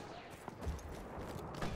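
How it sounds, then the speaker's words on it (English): Gunfire crackles through a video game battle with bullets ricocheting off walls, scattered sharp shots and bursts over a low rumbling backdrop, fairly quiet and fast-paced. "Bullets are ricocheting off walls, aren't they? Whizzing past my head."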